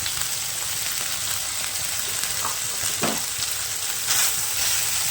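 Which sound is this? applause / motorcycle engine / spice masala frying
spice masala frying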